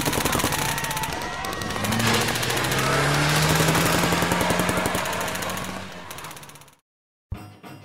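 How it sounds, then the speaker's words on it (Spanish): Dramatized ambush with a dense, loud burst of rapid automatic gunfire that rattles continuously for about six seconds before cutting to silence, then a sharp restart at the end. "¡Allí están! ¡Comiencen a disparar!"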